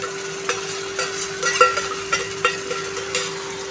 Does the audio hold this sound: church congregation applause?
no